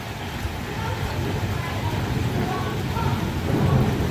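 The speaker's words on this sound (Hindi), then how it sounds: "बारिश भी हो रही है और बिजली भी कड़क रही है" Heavy rain pours down during a monsoon thunderstorm beside tin sheeting, a dense continuous hiss with deep rolling thunder rumbling underneath and swelling louder toward the end.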